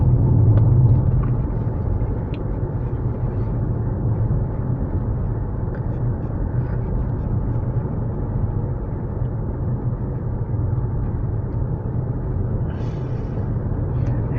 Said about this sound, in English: The acceleration of the car is fine with the PHEV box in eco mode if you do a full throttle.